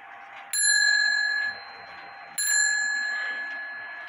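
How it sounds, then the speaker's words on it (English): Bell of a German shield-style wall clock strikes twice, each ring bright and metallic with a sharp onset and a long, slowly fading ring, close by and alone in a quiet room. "there's the bell works"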